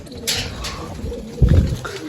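Pigeons being let out of a loft, with a few close, low coos over a short stretch and a louder coo near the end.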